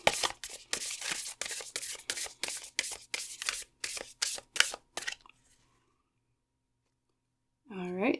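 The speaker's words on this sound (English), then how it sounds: "So using the Sacred Rebels Oracle today, let's draw our cards." Cards drawn one after another from a Sacred Rebels Oracle deck: about a dozen crisp, close flicks and slides in a steady rhythm, then silence, and then a voice begins speaking at the very end.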